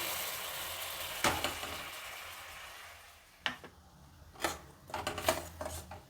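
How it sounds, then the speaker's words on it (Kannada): Ground coconut paste hits hot coconut oil for a Kerala-style moru curry, giving a soft, steady sizzle with a few sharp spattering bursts and scraping stirs toward the end. "ಎಣ್ಣೆ ಬಿಸಿಯಾಗಿದೆ ಇದರಲ್ಲಿ ರುಬ್ಬಿರೋ ಮಿಶ್ರಣನ ಸೇರಿಸ್ತಾ ಇದ್ದೀನಿ"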